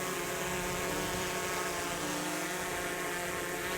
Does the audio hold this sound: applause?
no